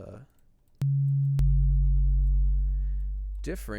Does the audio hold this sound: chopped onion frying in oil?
no